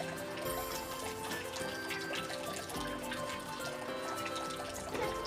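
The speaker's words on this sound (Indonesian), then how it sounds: "Nah, kita saring begini sampai airnya betul-betul habis ya." Blackberry juice strained through a sieve, liquid trickling and dripping steadily for several seconds at moderate level, with faint background music-like tones underneath and no talking.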